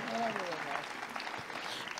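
Audience applause at a live literary event in Monselice, a steady crowd clapping throughout, with a voice faintly speaking over it early on.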